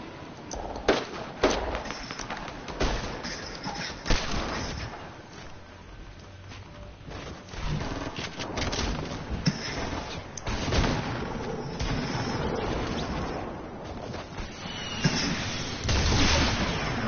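Sniper rifle shots in a video game sound as sharp, scattered booms over a muffled rumble of other gunfire and explosions, loud and irregular throughout.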